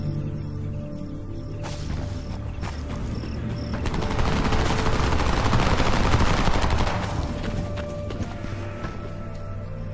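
Rifle gunfire in the video game Homefront, set during a helicopter recovery under heavy fire: dense rapid bursts of shots and crackling fire build to a loud sustained fusillade, then thin out, with scattered clatter throughout.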